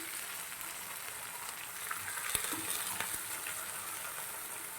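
Steady, loud sizzling and bubbling in a hot pan of garlicky cluster beans, with a brief splash and crackle partway through as a glass of water is poured in.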